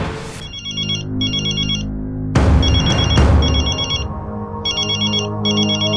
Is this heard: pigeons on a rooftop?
no